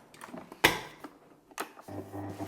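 A kitchen stand mixer works sweet bun dough made with soft butter and a pinch of salt, giving mechanical clunks and creaks at a slow speed, followed by a steady low motor hum as the machine settles into running.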